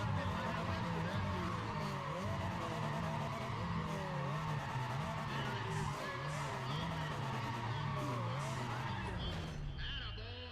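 Race car engines in Need for Speed ProStreet roar continuously during a drag launch, with rising and falling revs and tire squeal throughout, loud and steady to the end.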